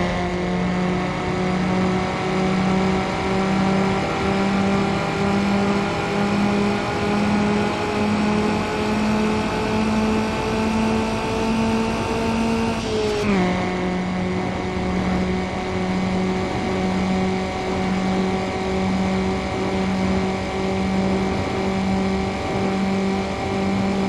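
A race car engine in a Need For Speed Underground drag race holds a loud, steady high drone that climbs in pitch, drops sharply at a gear change, then rises again, with no voices.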